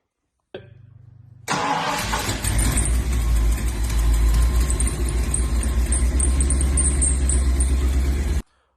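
A Ford 351 V8 swapped into a 1996 F150 cranks briefly, catches and fires up, then runs at a steady, loud rumbling idle close by with no talk over it.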